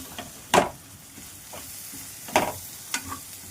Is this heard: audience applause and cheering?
no